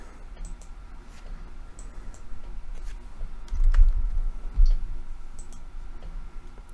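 Business details are typed on a computer keyboard, with quick irregular clicks close by and a slightly louder cluster of keystrokes midway.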